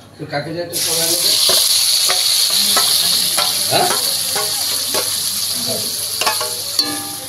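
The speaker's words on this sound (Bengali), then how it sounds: "গরম মশলা ফোড়ন দিয়ে আর মশলাটা ঢেলে দেবো" Garam masala tempering and spice paste for butter chicken hit hot oil with a sudden loud sizzle that holds steady and close, with occasional utensil clatter underneath.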